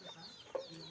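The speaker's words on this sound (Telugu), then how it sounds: "ఇవన్నీ కోళ్ళండి మాయ." Chickens kept on a farm, with a short clucking call standing out midway over a background of softer bird calls, fairly close.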